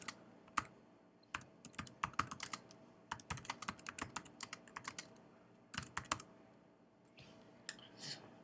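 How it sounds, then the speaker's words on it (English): Rapid clicking of keys on a computer keyboard as text is typed into an online poster editor. Bursts of keystrokes come in uneven runs with short pauses, close and moderately loud, with no voices. "you can type anything you want."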